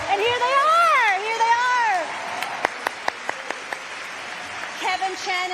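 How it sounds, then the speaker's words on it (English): A speaker's voice leads into scattered, sparse claps from the audience honoring America's Classics recipients at the James Beard Awards ceremony, the isolated hand claps spaced out and fairly light. "America's Classic honorees, a big round of applause."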